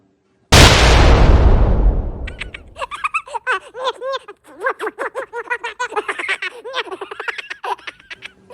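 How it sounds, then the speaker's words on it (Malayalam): A toy chick stuffed with firecrackers blows up in a cartoon about a chick outwitting a fox: one sudden loud blast with a long decaying rumble, then a rapid run of high squeaky chirps and cartoon voices. "ലുഡോക്ക് കൊടുത്ത കോഴിക്കുഞ്ഞ് കളിപ്പാട്ടം കുഞ്ഞിക്കോഴി പടക്കം നിറച്ചു വച്ചിരുന്നു."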